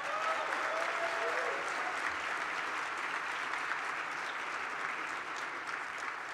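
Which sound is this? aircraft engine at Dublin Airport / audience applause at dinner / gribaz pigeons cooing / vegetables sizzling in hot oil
audience applause at dinner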